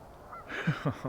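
A flock of geese honking as they come in to land over a field, a few nasal honks sounding faint and moderately distant with no talking.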